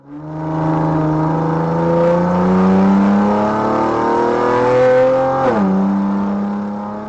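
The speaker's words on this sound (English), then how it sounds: "The driver, not wasting an opportunity, steps on the gas and speeds away" A supercar accelerating hard away from police on an empty road: a loud, close engine roar rising steadily through the revs, a brief gear-change dip near the end, then fading slightly.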